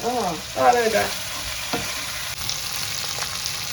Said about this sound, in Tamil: இதில் இப்போ எண்ணெயில் பொறிஞ்சு வருதுன்னு பாருங்கள் எண்ணெயில் வதங்கி பொறிஞ்சு வருது